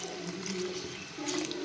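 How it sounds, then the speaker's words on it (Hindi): Water poured into a pan of jaggery melting on a stove, a short continuous splashing trickle with a brief surge near the end, close and alone. "इसमें मैं ऐड करूँगी तकरीबन पानी"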